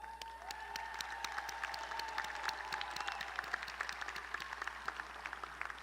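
Commencement audience at a Lamar University College of Engineering ceremony applauding graduates' parents: sustained, dense clapping from a large crowd filling the hall, steady throughout with sharp individual claps standing out and a faint tone humming underneath.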